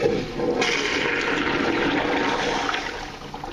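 Toilet flushing in a derelict, abandoned school bathroom with old plumbing, a steady rushing surge of water that swells at once and runs loud and close for several seconds, no talk.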